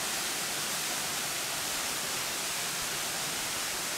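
A waterfall of several tiers about 71 metres high makes a dense, continuous broadband rush, steady and fairly loud, with no voices.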